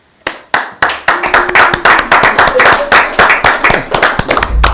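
A handful of attendees at a city council committee meeting clap in a loose, quickening burst of close, sharp handclaps that build into brief applause.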